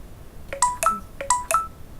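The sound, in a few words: phone ringing or notification sound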